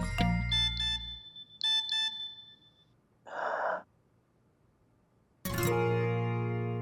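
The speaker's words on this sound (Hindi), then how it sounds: "सारा का नोटिफिकेशन" A phone plays notification sounds: short bursts of bright electronic tones, then a brief breathy noise, then a louder tone near the end. Nobody speaks.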